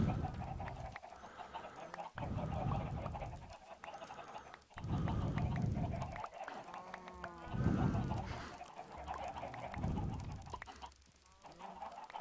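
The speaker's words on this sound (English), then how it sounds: "Guess we can feed chickens." Chickens in the video game Minecraft cluck and squawk in short repeated bursts over a steady background, the calls fairly close and alone without talk.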